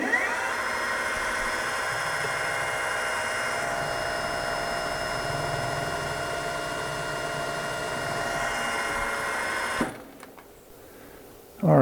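A metal-cutting drill or mill spins through one more hole in a machine shop, a steady whining hum with tonal overtones that runs evenly for about ten seconds before cutting off abruptly, then quiet handling noise.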